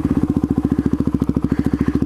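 A supermoto motorcycle engine pulses in a steady, rapid beat on a short straightaway, loud and close, with a throbbing low drone and no talk over it.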